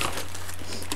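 Plastic shopping bag crinkling close up as groceries such as lemongrass and fresh blueberries are unpacked, a short burst of rustling with a steady low hum underneath.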